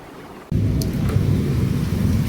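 A thunderstorm breaks after oppressive heat, a sudden loud rush of rain and wind with low rumbling thunder that starts abruptly and continues steadily.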